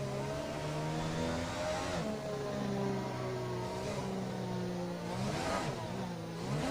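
A Formula 1 race car in F1 2020 at the Russia round runs behind the safety car, its engine droning steadily with rising and falling pitch as it revs up and eases off, loud and close, with no talk.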